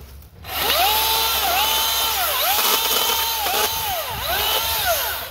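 An electric chainsaw whines steadily up close, its motor pitch dipping and rising repeatedly as it bites and eases off.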